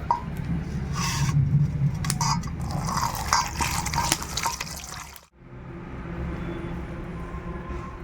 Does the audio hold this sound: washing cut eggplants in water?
yes